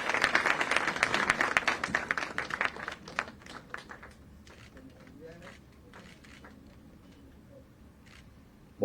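Audience applause at a Jaipur government award ceremony, dense and loud at first, then quickly thinning to scattered claps and quiet room noise with faint background voices.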